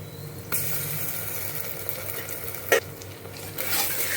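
Ginger garlic paste frying with softened onions in a pan for a Telangana mutton curry, a steady soft sizzle with a couple of sharp stirring clicks and scrapes, close and alone.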